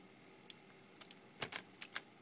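Someone typing the ADB connect command on a computer keyboard, a few faint, sparse key clicks followed by a quick cluster of taps, in a quiet room.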